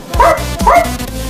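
A person imitates a dog, giving two short, loud barks in quick succession, close to the microphone.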